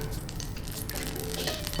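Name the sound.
vegan chicken cutlets sizzling in olive oil on a skillet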